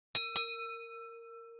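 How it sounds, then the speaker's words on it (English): A boxing-style bell struck twice in quick succession, two bright metallic clangs followed by a long, clear ringing tone that slowly fades, heard alone and close. "when you hear that bell, you come out fighting"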